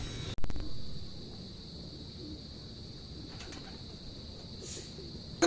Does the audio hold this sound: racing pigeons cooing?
yes